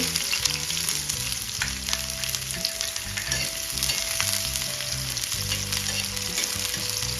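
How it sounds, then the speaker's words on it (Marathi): Onion sautés in oil on a flat pan for chicken khaliya. A dense, continuous sizzle sits close and loud throughout, with music playing underneath. "आता आपल्याला कांदा छान सॉफ्ट होईपर्यंत परतून घ्यायचा आहे"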